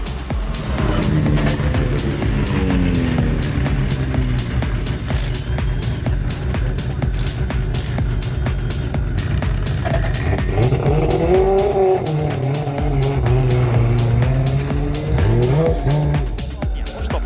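Drift race cars at an RDS GP event roar continuously with engines revving up and down and tires squealing through long slides, loud and close, with a commentator's voice faintly mixed in.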